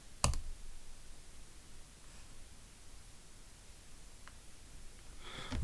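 A single sharp mouse click on a software install button, close and clear near the start, followed by quiet room hiss with a couple of faint small clicks.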